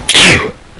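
A single sharp, loud sneeze bursts out close to the microphone during a Minecraft play session, quickly trailing off.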